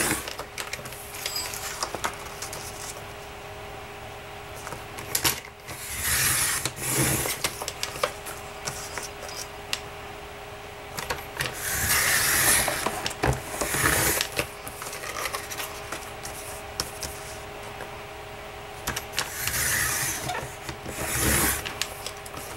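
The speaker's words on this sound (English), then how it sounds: "I'm using my Fiskars rotary blade cutter because I love it." A Fiskars rotary blade cutter slicing paper strips, repeated short scraping rolls in separate bursts over a steady background hum, close and moderately loud.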